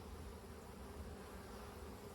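Honey bees buzz around an open hive during dull weather, a continuous low drone of many wings, fairly faint but steady and unbroken.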